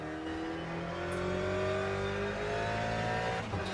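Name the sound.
Ferrari race car doing donuts in Le Mans Ultimate video game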